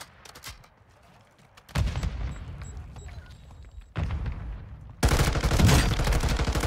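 Gunfire in the Call of Duty DMZ video game comes as dense bursts of automatic fire that swell louder partway through, with a voice briefly talking amid the shooting.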